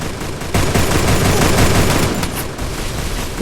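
Rapid bursts of gunfire in the mobile battle-royale game Free Fire, a loud continuous fusillade of shots crackling for several seconds with no talk over it.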